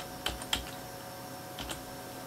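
A few soft, sparse keystrokes on a computer keyboard entering a file name, two light taps close together, a pause, then two more, over a faint steady hum.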